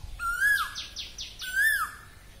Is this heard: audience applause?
no